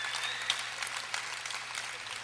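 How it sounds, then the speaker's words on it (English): Applause from an audience at an onstage conversation event, fairly soft and steady, with a faint background hum under the clapping for a couple of seconds. "So give him a round of applause."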